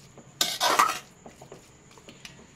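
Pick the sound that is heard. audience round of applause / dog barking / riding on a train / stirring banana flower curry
stirring banana flower curry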